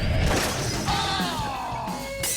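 Ordinary glass shattering in a sharp, loud crash, followed by ringing, tinkling shards that trail off over a couple of seconds.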